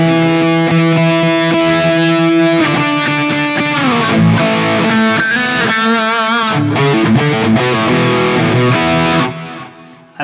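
Sustained electric guitar chords through the galaxy delay effect of a Mooer GE-1000, drenched in long, shimmering repeats smearing into a dense wash before cutting off abruptly near the end.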